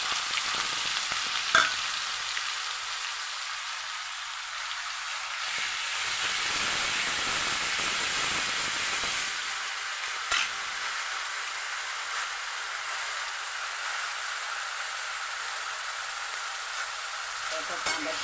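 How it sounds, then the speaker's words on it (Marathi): Onion paste fries in hot oil in a pan with curry leaves, a steady bright sizzle and hiss that runs throughout, with a few faint clicks of stirring, close and continuous. "त्याचा कांदा तळून झाला. पेस्ट केल्यामुळे कांदा लवकर तळतो."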